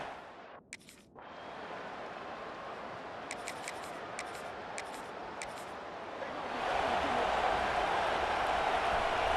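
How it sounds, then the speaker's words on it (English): Stadium crowd in the College Football 26 video game during a football broadcast, a steady broad roar that swells louder near the end, with brief crisp clicks and a short dip early on. "The roar of the crowd trying to fuel this defense to keep them pinned in their own end."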